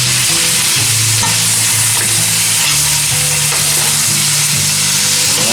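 Chopped tail meat, cooked Everglades style, sizzles and fries steadily in a pan, a loud continuous crackle with occasional stirring scrapes and no voices.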